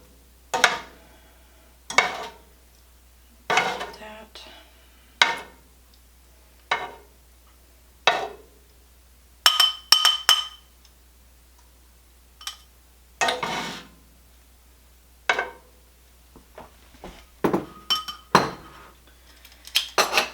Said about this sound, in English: Okay, I gotta put my lid on the pasta.